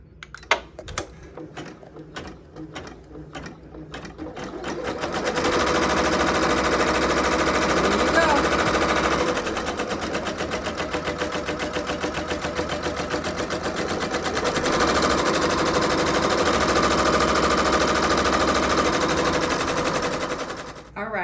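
Janome MB7 embroidery machine stitching a design onto a hoodie: a few separate mechanical clicks at first, then a loud, dense, rapid rattling stitch that runs continuously close by for most of the stretch.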